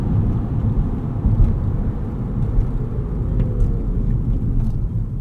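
A 2025 Rivian R1S electric SUV accelerates hard from a standstill toward 60 mph, giving a steady, loud low rumble of road and motor noise that builds without pause, with no talking.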